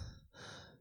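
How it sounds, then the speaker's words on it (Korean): An old man's rough, heavy breaths close up, a ragged inhale followed by a long strained exhale, with no talking. "마치 오래 달리기라도 하고 온 사람처럼 거친 숨소리가 들려왔다"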